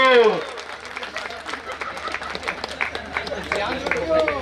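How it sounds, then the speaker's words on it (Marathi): Audience at a Chhatrapati Sambhaji Maharaj Jayanti gathering at Purandar fort breaking into a burst of clapping, a dense ongoing patter of many hands, with a voice briefly at the start. "परत एकदा या तिघांसाठी जोरदार टाळ्या वाजवा"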